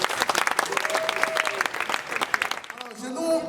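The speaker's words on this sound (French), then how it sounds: "Ici, applaudissez pour vous les femmes." A crowd claps loudly for the women during a live comedy show performance, dense applause with cheering, fading toward the end as a voice speaks over it.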